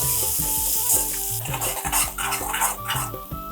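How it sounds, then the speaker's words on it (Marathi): Ginger-garlic paste sautéing in oil with turmeric and coriander powder for Mumbai-style vada pav potato filling, a loud steady sizzle under repeated scraping and clinking stirs of a spoon against the pan, close up and without speech. "आता ही आलं लसणाची पेस्ट पण ह्याच्यात चांगली परतून घ्यायची आहे."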